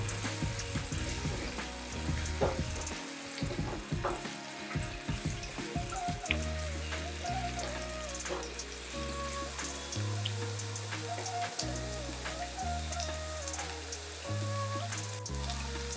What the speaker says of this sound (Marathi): मी पॅन ठेवलं आहे त्यामध्ये आता मी तेल घालत आहे आता यामध्ये लसूण घालत आहे हा लसूण व्यवस्थित शिजवून घेऊया